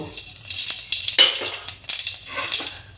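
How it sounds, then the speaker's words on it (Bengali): Black cumin seeds tempering in hot oil in a Bengali home kitchen for spinach, giving a close, steady sizzle with crackling bursts and a few scraping stirs across about three seconds. "কয়েকটা কালো জিরা ফোড়ন দেব।"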